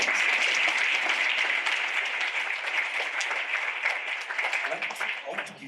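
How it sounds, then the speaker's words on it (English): Steady applause from an audience, dense clapping that carries on for several seconds and slowly tapers off, with faint voices mixed in. "A round of applause."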